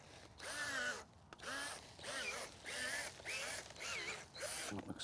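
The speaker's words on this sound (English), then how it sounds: "let's just start with our power planter auger here" A power planter auger drills into garden soil for planting garlic cloves and tulip bulbs, six short whirring bursts in a steady rhythm with brief pauses between, fairly faint.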